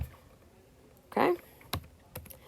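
Typing on a computer keyboard while writing an Outlook email, with a few separate key clicks and a louder burst, faint and close, with quiet pauses between strokes.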